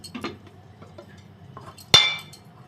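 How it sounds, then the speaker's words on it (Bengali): A lid comes off a container of rested flour dough, with a single sharp clink after a few soft handling knocks, heard close in a quiet kitchen. "এখন ঢাকনাটা উঠিয়ে নিব।"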